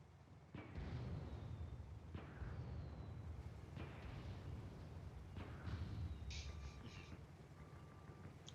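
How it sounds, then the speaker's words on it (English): Video game match with distant gunfire exchanged across the map, a handful of sharp muffled shots spaced a second or two apart over a steady low ambient rumble, faint overall, with a couple of brief whooshing effects near the end. "some friendly shots being exchanged here"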